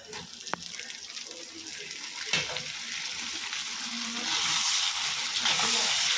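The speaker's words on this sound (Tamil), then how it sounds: "இந்த ஸ்டேஜில் நம்ம தக்காளி சேர்த்துக்கலாம்." Tomatoes tipped into a pan of onions and garlic frying for a Tamil kuzhambu, with a steady sizzle and hiss that swells louder toward the end, plus a soft clack or two of stirring.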